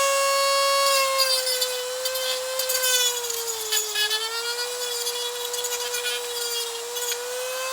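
A power tool sands the hip joint of a 1/6-scale Dragon action figure, giving a continuous high, tonal whine that wavers slightly in pitch throughout.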